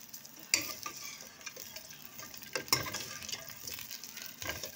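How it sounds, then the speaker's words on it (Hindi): Chicken feet fry in a pot with a soft, continuous sizzle, broken by a few sharp clinks and scrapes of stirring; the sound is fairly quiet and close, with no talking. "मुर्गी के पंजे इसमें डालें, इनको हल्का सा हम फ्राई करेंगे ताकि इसकी स्मेल जो है वो ख़त्म हो जाएगी"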